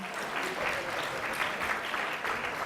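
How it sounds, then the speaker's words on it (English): Steady applause from the audience for an entrepreneur panel at the TiECon Florida 2019 conference, a dense wash of many hands clapping evenly throughout, fairly loud and continuous with no voices standing out. "Let's give one last round of applause for our entrepreneur panel"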